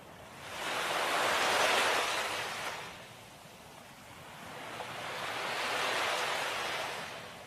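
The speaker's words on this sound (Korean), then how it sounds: "파도가 한번 딱 치면은" Ocean waves at the Sokcho seashore in Korea, two broad swells of rushing surf that build, break and fade back, loud and steady with no voices.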